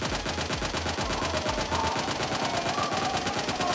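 Automatic gunfire from a weapon in the mobile game PUBG Mobile, a loud continuous rapid burst of shots fired until the magazine runs empty, heard alone with no talk.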